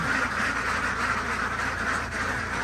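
A flock of white egg-laying ducks being delivered on a farm in Nakhon Ratchasima quacks continuously in a dense, overlapping chorus, close and steady throughout with no clear gaps.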